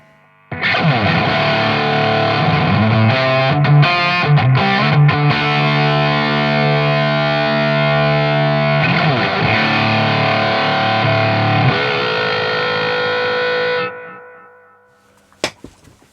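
A heavily distorted electric guitar through a full-gain HM-2-style distortion pedal holds a thick, buzzing, saturated chord for over ten seconds, then cuts off into hiss and a couple of faint clicks.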